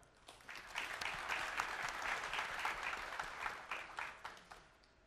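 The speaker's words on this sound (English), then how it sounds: "if you can join me in a hand of applause for the panel" A conference audience applauds a panel at the SANBio annual event: a steady, moderately loud wash of many hands clapping that holds for about five seconds and then tapers slightly.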